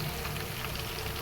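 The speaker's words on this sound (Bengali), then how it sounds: "বড় বড় গলদা চিংড়ি ফ্রাই করা হচ্ছে। আর একটু মশলা মাখিয়ে ফ্রাই করা হচ্ছে" Large giant freshwater prawns coated in spices fry in hot oil, giving a steady, dense sizzle and crackle that fills the short stretch without pause, close and fairly loud.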